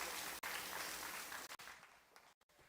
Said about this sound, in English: let's go ahead and give a round of applause for Amelia and her amazing act